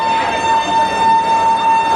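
A loud, steady train horn sounds continuously for a couple of seconds before departure from Howrah, one unbroken tone over a faint rumble.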